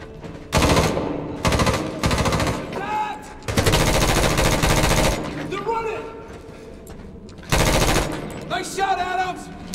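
Bursts of automatic gunfire in the Medal of Honor 2010 campaign, loud rapid machine-gun volleys in several separate runs with short pauses, cave combat with voices in the mix.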